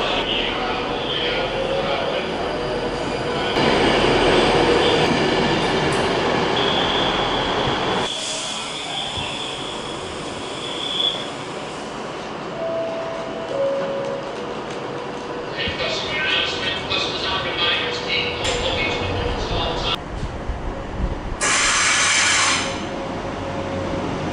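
A train at Stockport station rumbles and hisses at close range beside the platform, with squeaks and clanks as it moves and a brief high squeal, while a person talks over parts of it.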